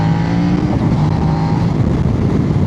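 A Kove 800X GT motorcycle rides out of a village, its engine a steady, loud drone held close throughout with no talk over it.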